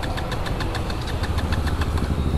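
A KTM Duke 200 BS6 motorcycle with a fuel-injected engine and a drilled-hole exhaust runs steadily at close range, a loud, even rumble with rapid regular ticking pulses throughout.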